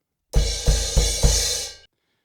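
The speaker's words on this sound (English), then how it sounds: "it's just 4 crashes in that pattern to finish" Four crash cymbal hits on a drum kit at the end of a fill, evenly spaced and loud, each with a bright wash ringing on before a final quick cutoff into silence.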